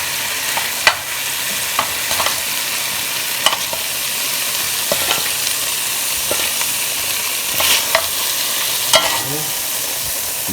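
Oxtail meat sears and fries in a pot for Jamaican oxtail, a steady close sizzle broken by sharp spoon clicks and scrapes as it is stirred, with no talk.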